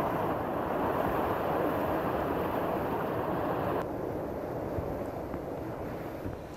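Flooded river water in spate in Champawat, Uttarakhand, rushing in a continuous loud roar, steady broadband churning throughout with no voices.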